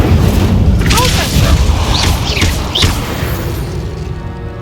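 Incendio fire spell cast in Hogwarts Legacy, heard as a loud whooshing burst with a heavy boom that fades out, with a few bright chirping magical tones over the roar.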